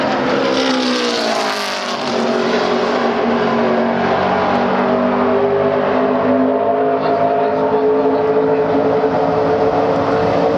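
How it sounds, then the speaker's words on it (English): A Camping World Truck Series race truck runs a qualifying lap at Phoenix, its engine a loud, sustained roar with shifting pitch that sweeps past and holds steady as it circles the track. "We have 35 trucks that will be taking times here this afternoon in this qualifying session."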